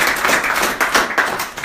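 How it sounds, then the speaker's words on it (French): An audience applauds the guests with a short burst of brisk clapping, close and fairly loud, that lasts under two seconds. "On va applaudir nos invités."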